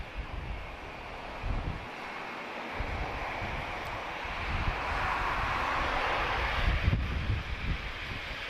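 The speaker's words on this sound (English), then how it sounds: "that wind's really picking up now" Wind gusting at Lisbon Airport, a broad steady rush of air buffeting the microphone and swelling stronger toward the end, with no clear voices.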